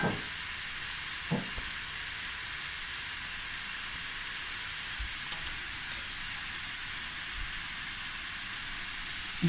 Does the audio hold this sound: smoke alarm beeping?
no